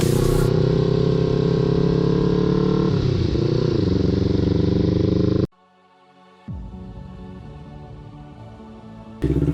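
A Kawasaki Z250 motorcycle engine drones loudly and steadily while riding a damaged, muddy road under repair, dipping briefly near the middle before resuming.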